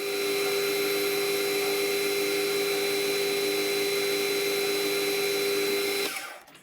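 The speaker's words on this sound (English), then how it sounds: "Feels a bit strange turning aluminium after turning so much steel lately." A metal lathe turns aluminium stock, giving a steady, loud, high whine with strong tonal hum that runs evenly for about six seconds and then cuts off as the machine stops, with no talk.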